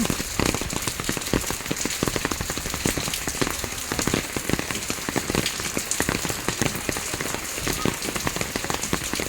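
Steady rain pours across a construction site where masons are laying and plastering blocks, a dense, continuous patter of drops hitting surfaces close by, with no voices.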